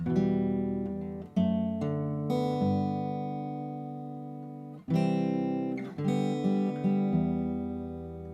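Acoustic guitar chords are strummed and left to ring, a few spaced strums with long sustains between them, clear and close.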